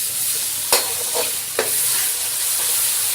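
Ginger garlic paste frying in a pot for chicken biryani, giving a loud, steady sizzle close up with a few sharp scraping stirs and small pops, and no talking.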